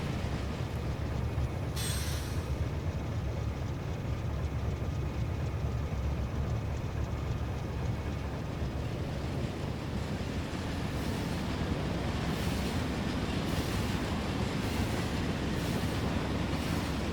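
Coal train rolling along the tracks in the Factorio video game, a steady continuous low rumble with mechanical clatter running throughout, plus a few brief higher-pitched accents, with no talking.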